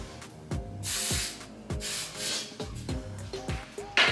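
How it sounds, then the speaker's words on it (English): Hairspray hisses onto wand-curled hair in several short bursts, close and fairly soft, with light rubbing and handling sounds between sprays. "So what I'm gonna do now is just spray my wand curls."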